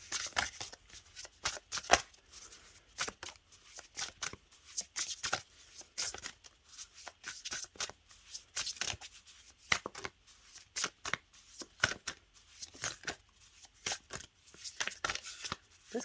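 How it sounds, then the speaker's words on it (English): A deck of cards is shuffled by hand for a card pull, with quick, close riffling bursts that repeat in an irregular rhythm, faint and quiet between strokes, no talk. "Let me pull one more card."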